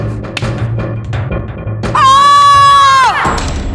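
A loud, sustained human shout rises sharply in a battle scene and holds for about a second before breaking off, following some rougher vocal sounds and thuds.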